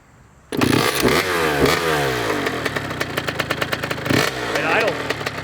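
A Kawasaki KX80 two-stroke dirt bike, an old barn find, starts up and idles loud and close with a rapid, rattling putter and occasional blips, while people talk over it.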